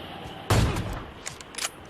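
Gunfire in a battle royale shooter game, a sudden burst of rapid shots that rings out over a faint background, followed by a few quieter scattered pops.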